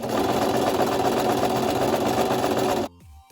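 A sewing machine stitches a buttonhole on a trench coat with the pedal held down, making a fast, even mechanical whirr close by that stops abruptly, leaving a few faint clicks.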